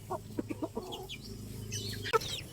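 A White Kelso and Gilmore crossbreed gamefowl clucks in a backyard, several short, evenly spaced clucks up close, a pause, then a sharper louder call near the end.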